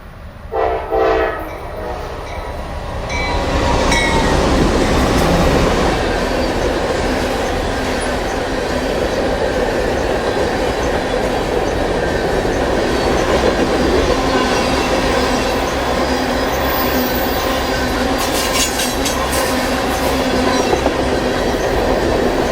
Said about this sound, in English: NS Grain Train 44A approaches milepost 198 from the east.